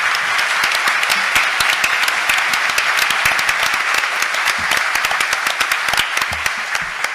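An audience at a town hall debate applauds the candidates with steady, dense clapping that stays loud and even throughout, with no voices over it.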